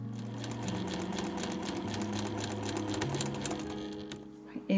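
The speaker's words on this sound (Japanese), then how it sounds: "端から端まで、この V になっているところから V になっているところまでを縫います。" A sewing machine stitches bias tape onto a dress in one steady, fast, even whir that runs for several seconds before stopping abruptly.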